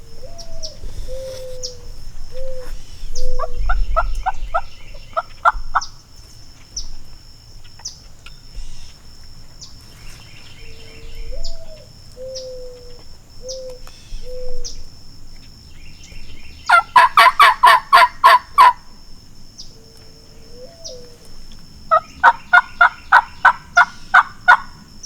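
Repeated loud wild Osceola turkey gobbles ring out at intervals, with soft low drumming thumps in between, nearby and outdoors in Florida.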